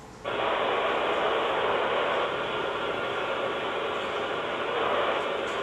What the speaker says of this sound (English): So it's going to sound like static when you hear it.